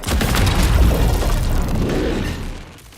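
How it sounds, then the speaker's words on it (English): Claymore mine blast in the video game Marathon: a loud, close boom with a heavy low rumble that holds for a couple of seconds before fading out. "Just watch out for the Claymore mines, as these are all too happy to ruin a runner's day."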